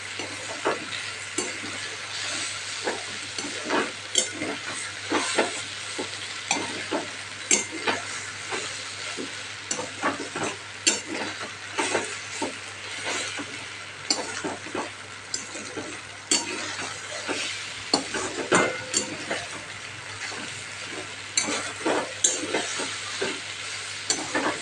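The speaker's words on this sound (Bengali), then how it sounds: "এবার গাজর আর আলুর সাথে ম্যাগিটা আমি ভালো করে ভেজে নিচ্ছি" Maggi noodles fry with carrot and potato in a pan, a continuous sizzle broken by frequent scraping and stirring strokes from a utensil.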